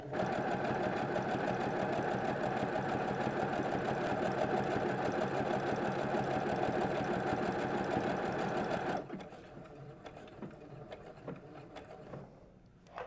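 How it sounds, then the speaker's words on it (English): A sewing machine runs continuously as it stitches a buttonhole, with a steady mechanical whir and rapid needle rhythm for about nine seconds, then stops, leaving faint handling clicks. "pull down your buttonhole lever, and then sew your button"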